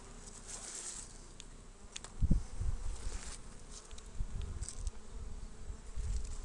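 Honeybee colony buzzing at a newly installed hive entrance during bramble bloom, a steady soft drone of many bees with individual bees passing close by in louder swells, no voices.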